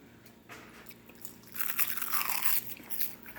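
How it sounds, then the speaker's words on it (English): Crunchy sesame-flavored seaweed snacks being bitten and chewed close up, with soft crackling bites building into a louder, steady stretch of crisp crunching. "You gotta chew it."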